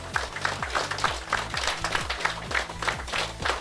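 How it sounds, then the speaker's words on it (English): A crowd at a football camp ceremony applauds continuously, with dense clapping up close and steady rhythmic thumps running underneath throughout. "So I want you to all give Mr. David and his crew a round of applause for the work that he has done"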